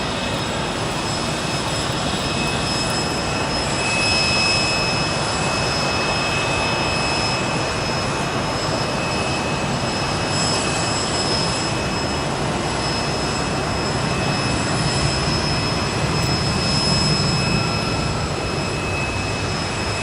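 A Delta E175 regional jet taxis out toward the runway, a constant loud whine and rumble of jet engines held steady and fairly close throughout, with no voices.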